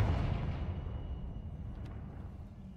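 A Confringo explosion spell bursts in a video game, a loud low boom at the start that rumbles and fades away over a few seconds.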